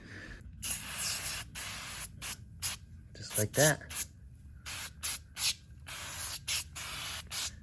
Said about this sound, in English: all you do is you just spray it on the truck